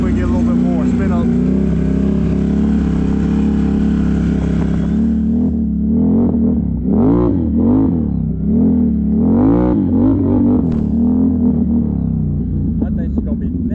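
A Can-Am side-by-side with lightened clutch weights, engine idling loudly then revving in repeated rising and falling surges, close and rumbling throughout.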